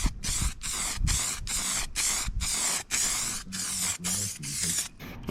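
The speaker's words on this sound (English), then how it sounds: "Let's get this primer on." Primer spraying from an aerosol can onto Nissan Micra K11 valve covers, in a steady run of loud hissing bursts, about ten in a row, each cut by short pauses, close to the microphone with no talk.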